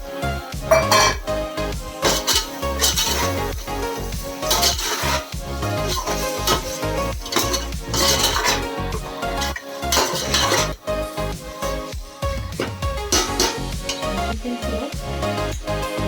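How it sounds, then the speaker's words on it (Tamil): Washed chicken goes into a pot of tomato masala for chicken biryani, with repeated metal spoon clinks, scraping and stirring against the pot over a steady background, and no voices. "ஸோ வாஷ் பண்ணி வச்சுருக்கிற சிக்கன் ஆட் பண்ணிடலாம்"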